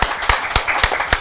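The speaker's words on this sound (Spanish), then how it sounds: "te recibo y te acepto este aplauso" Studio audience applause for guest David Ostrosky on a talk show, heard as a short, close burst of claps in a fairly regular rhythm.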